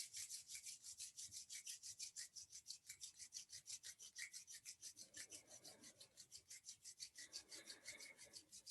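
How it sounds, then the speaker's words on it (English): Palms of the hands rubbed briskly together during a guided meditation, producing a steady, fast back-and-forth swishing rhythm that stays soft and close, continuing evenly without any voice. "bring the palms together and rub them together"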